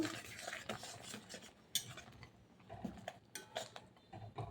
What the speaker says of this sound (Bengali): এবার এটাকে নেড়ে চেড়ে ঝোলের সঙ্গে মাছের সঙ্গে আমি মশলা বাটাকে মিশিয়ে দেবো